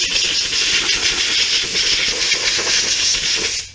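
Compressed air blasting out wheel hub stud holes on an S550 Mustang during an ARP extended wheel stud install, a loud steady close hiss running continuously before cutting off at the end.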